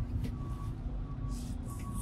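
A garbage truck's reversing alarm beeps faintly and steadily in city traffic, under a low rumbling engine and road noise.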